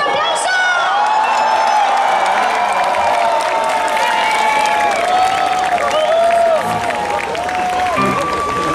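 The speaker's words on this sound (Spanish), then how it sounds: "Por favor, un fuerte aplauso" An audience at a concert gives loud, sustained applause with cheering and whoops, filling the hall throughout.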